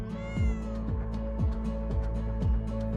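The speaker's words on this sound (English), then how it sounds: "from the sweet little meows to the blood-curdling yowls at 3 a.m." A cat meows repeatedly, about five drawn-out descending calls in a steady rhythm, loud and close with no talking.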